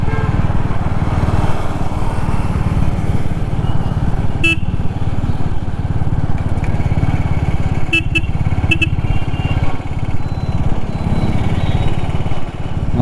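A Royal Enfield motorcycle engine running while riding on the road, a steady loud thumping drone throughout, with brief vehicle horn toots from nearby traffic.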